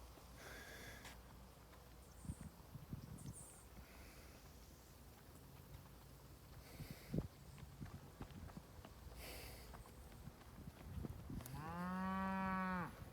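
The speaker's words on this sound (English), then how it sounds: "You can hear one of the cows moving out here." Cows out in the Barbados countryside of St. Thomas parish, with soft shuffling, hoof steps and snuffling at a distance, then a loud drawn-out moo rising near the end over the quiet rural ambience.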